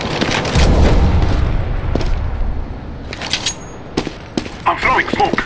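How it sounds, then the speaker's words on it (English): A grenade blows up in Counter-Strike: Global Offensive, a loud low boom near the start followed by scattered gunfire and thuds, with voices talking throughout. "Grenade out."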